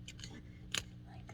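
Scissors snip through a strip of duct tape in one quick, close, crisp cut, with soft rustling of tape around it.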